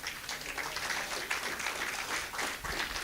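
A church congregation claps in a brief, faint burst of applause, steady, soft and somewhat distant throughout.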